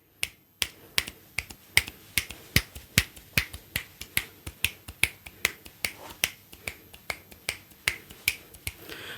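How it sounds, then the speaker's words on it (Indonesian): A long run of sharp finger snaps, close and crisp, repeating at a steady rhythm about three per second with no voices. "gua akan menjentikan jari apakah suaranya masih terdengar"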